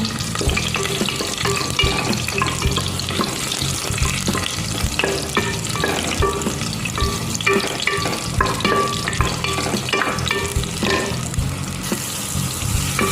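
Continuous loud sizzling of onion, garlic and ginger sautéing in a hot pot, with occasional scraping and stirring clicks throughout.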